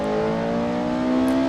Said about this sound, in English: Hold those revs high.